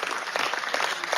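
A canned applause sound effect plays during a live stream, a short burst of dense clapping at steady volume that lasts about a second, with no voice over it.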